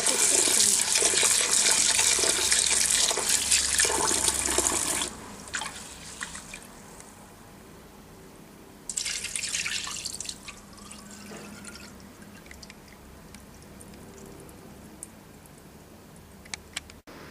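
Tap water runs steadily into a sink as rice for stuffed vine leaves is washed, loud for the first five seconds, then a second shorter burst of flow with faint drips and handling sounds in between.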